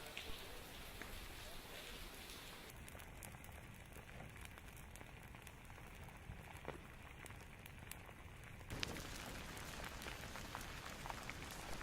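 Rain falls steadily beside a burning lava flow, a dense hiss of drops with faint crackling scattered through it, close and even throughout.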